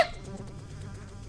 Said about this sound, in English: Their buzzing wings sounded right up against my ears as if they were attacking me.